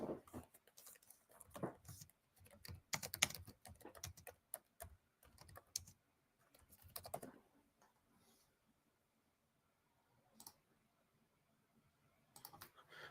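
Bursts of quick typing on a computer keyboard, close and quiet, with pauses between runs of clicking keystrokes and a short flurry near the end.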